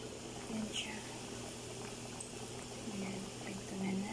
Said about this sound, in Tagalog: Ayan guys, prito na natin.